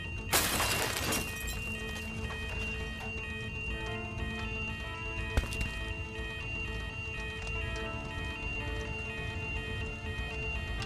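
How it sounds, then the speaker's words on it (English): A sharp burst of shattering glass doors, broken with an emergency glass hammer in a fire safety VR training game, near the start, followed by a lighter crack later, over a steady background hum. "Locate the emergency glass hammer to your right and use it to break through the glass doors."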